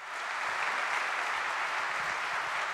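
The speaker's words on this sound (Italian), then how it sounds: "per questo vi va un grande applauso" A large audience at an Italian supermarket chain's business convention breaks into sustained applause, an even, full roar of clapping that rises quickly and holds steady without voices on top.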